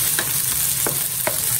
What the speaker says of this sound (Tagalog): Ito lang po lutoin yung corned beef.